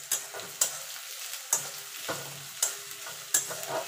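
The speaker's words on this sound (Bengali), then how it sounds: "পেঁয়াজটা একটুখানি ভাজা ভাজা করে নেব" Chopped onion sizzles softly in oil in a pan as a spatula scrapes and stirs it in repeated sharp strokes about every second over a steady hiss, heard up close with no voices.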